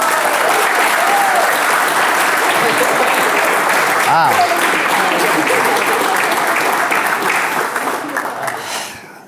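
Guests at a wedding ceremony on a grand estate break into sustained, loud applause that fills the space, fading near the end, with a brief exclamation from a voice.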